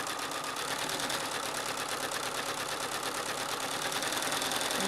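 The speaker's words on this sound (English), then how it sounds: "So this ivy leaf, I'm actually sewing from side to side in green thread." Free machine embroidery on a sewing machine stitching an ivy leaf side to side in green thread, a steady, dense, continuous mechanical whir running loud and close throughout with no pauses.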